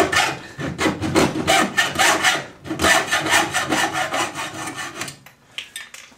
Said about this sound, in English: We get a hacksaw.